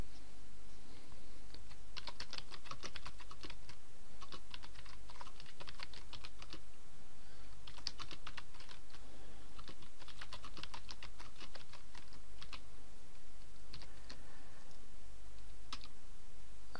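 Bursts of keyboard typing on a computer while entering text into a WordPress blog post, quick close clicks in clusters separated by short pauses over a steady low hum.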